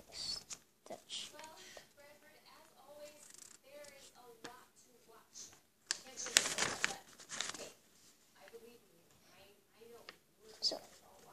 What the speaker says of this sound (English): Then fold it in.